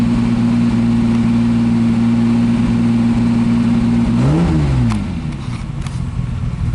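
A 1959 Aston Martin MkIII, unused for a couple of years, idles with a steady, close, loud engine drone, then blips the throttle into one short rising-and-falling rev before settling back.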